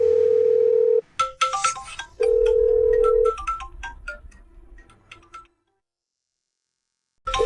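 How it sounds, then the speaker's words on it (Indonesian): A mobile phone ringtone plays a steady sustained tone, breaks into a quick melodic run of bright chime notes, then fades to silence before starting to ring again. "Kok HP wakil bunyi?"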